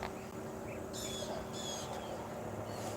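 Birds call outdoors in a quiet setting, with a few short, high chirping bursts rising over a steady low background hum.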